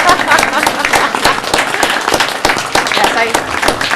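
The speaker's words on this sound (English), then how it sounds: "Anyone from the audience want to just like cheer or wave or, yeah?" An audience claps and cheers at a village board meeting, steady mixed applause with overlapping voices lasting throughout.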